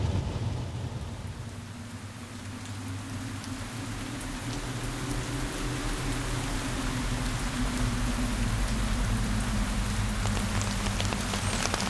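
Steady rain falls and patters on surfaces for the whole stretch, a dense, even hiss, with a low rumbling undertone like distant thunder and no voices.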